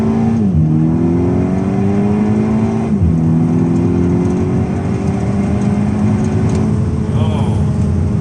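A stock VW Scirocco 2.0 TSI with 210 hp accelerating hard at full throttle, the engine note climbing loud and steady from inside the car, dropping briefly at a gear change around three seconds, then rising again.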